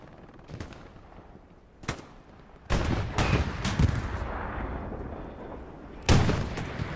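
Panzer IV tank cannon shots in the console game Hell Let Loose, a few heavy booming blasts spaced over several seconds, loud and close, with lighter distant gunfire between them.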